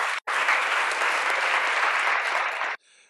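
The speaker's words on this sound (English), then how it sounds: "round of applause for our federal delegation" A room of people applauds at a public panel event on funding climate action in Vermont, steady dense clapping that fills nearly three seconds after a brief gap near the start, then cuts off abruptly.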